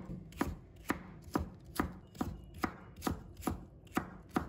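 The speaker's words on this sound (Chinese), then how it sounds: "再准备半条青瓜，把它切成片。 再切成丝。" A knife chops half a cucumber into thin strips on a cutting board, with about a dozen evenly spaced, crisp thuds in a steady rhythm and no talking.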